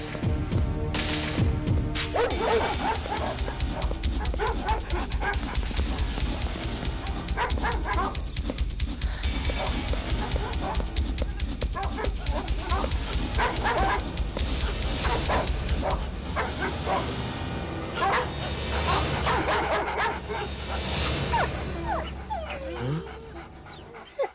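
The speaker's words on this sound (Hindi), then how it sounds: "इसके पीछे कुत्ते छोड़ो।" Dogs set loose to chase someone in a dubbed action film scene bark, yip and whimper almost continuously and loudly, with thuds, dense background sound and occasional voices mixed in.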